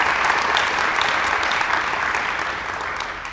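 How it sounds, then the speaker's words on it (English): A town hall meeting audience claps for a live band, giving dense, steady applause that fills the room and fades slightly toward the end. "Can we give them a round of applause for the great music?"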